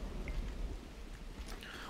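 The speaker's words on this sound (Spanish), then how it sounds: "me está lloviendo por todos lados" Rain pattering down in the city-building game The Universim, a dense, steady hiss of falling drops with no voices.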